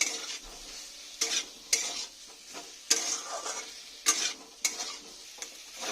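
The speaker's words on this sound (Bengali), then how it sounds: "একটু আস্তে করে আবার একটু লো মিডিয়ামে রেখে নাড়তে হবে" Papaya curry with ground spices stirred in a pan over low-medium heat, a soft steady sizzle broken by several sharp scraping strokes of the spoon, close and with no talking.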